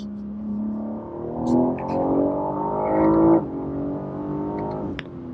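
Engine note of a BMW G8x Competition tuned with a RaceChip GTS Black, heard from inside the cabin as it pulls steadily under acceleration, rising in pitch through one gear before easing off, with a brief click near the end.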